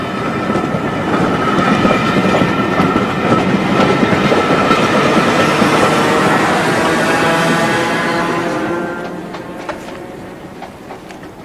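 A train rumbles past a railway signal at close range with a loud, sustained rattle and clickety-clack of wheels before fading away as it departs.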